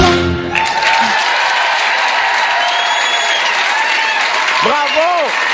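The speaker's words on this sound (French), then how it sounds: "On applaudit Chantal Renaud!" Studio audience of a French-language TV show applauding for Chantal Renaud, a loud sustained wave of clapping and cheering, with a voice calling out near the end.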